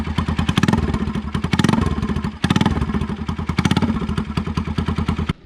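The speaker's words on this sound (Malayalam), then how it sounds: "ഇനി ഈ സൈലൻസർ ഇല്ലാത്ത സൗണ്ടും കൂടെ ഒന്ന് കേൾപ്പിച്ചു തരാം കേട്ടോ." Bajaj NS200 motorcycle engine running with the exhaust silencer removed: a loud, raw, rapid popping throb, revved up and down in uneven bursts with a brief dip midway; no speech.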